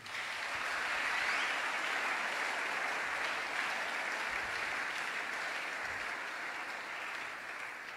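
A church congregation applauding and acclaiming during a French-language sermon, a sustained wash of clapping and crowd noise that stays fairly distant and even for several seconds.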